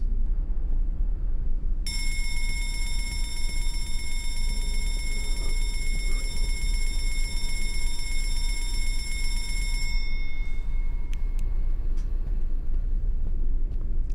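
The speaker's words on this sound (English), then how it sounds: "I'm gonna go hit the alarm." In the Escape The Backrooms video game, a shrill electronic alarm rings continuously for about eight seconds over a low background rumble, then cuts off and is followed by a few brief metallic clicks.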